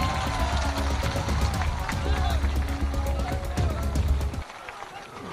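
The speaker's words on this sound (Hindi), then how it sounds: "जोरदार ताली बजाइए।" Loud, sustained clapping and cheering from a crowd welcoming Jan Suraaj party president Manoj Bharti at a political gathering, a dense wash of hands and voices that cuts off abruptly near the end.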